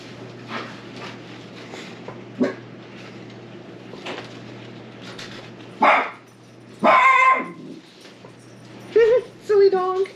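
A dog barks in a home during crafting, several sharp barks and yips in bursts, the loudest near the end, over a quiet room hum with faint voices.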